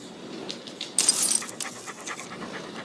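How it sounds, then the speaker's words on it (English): A dog pants in quick, soft breaths close by, with a brief jangle of keys or tags partway through and no one speaking. "Talking dog."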